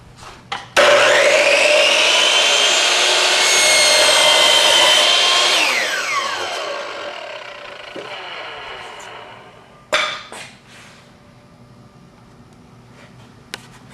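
Hitachi C10FCH2 miter saw cutting wood for an inside corner, a loud high whine that bites through the board over several seconds, then winds down, followed by a couple of sharp clunks.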